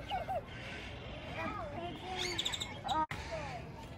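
Birds at a zoo chirp and call in short bursts while eating popcorn, over a busy outdoor background of murmuring voices and traffic hum.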